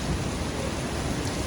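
Steady monsoon rain pours outdoors in a village, a dense, even hiss of rainfall close by that fills the whole moment with no voices.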